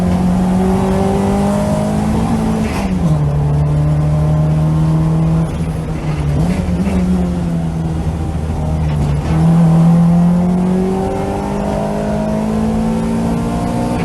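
A Honda engine hums steadily from inside a Civic at a track day, its pitch dipping and climbing as the car shifts and accelerates around the circuit, with a brief louder surge near the end.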